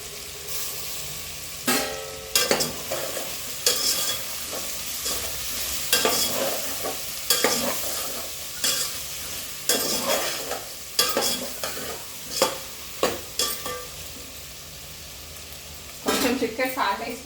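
Tomatoes with salt and chili powder fry in a pan for veg kichidi, with a constant sizzle and repeated spoon scrapes and knocks against the pan, close and steady. Occasional faint talk sits underneath.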